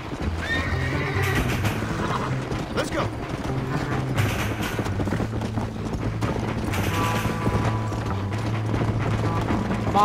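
A horse in the Red Dead Redemption video game neighs and whinnies over steady clip-clop of hooves, with mechanical rattling and game music underneath throughout.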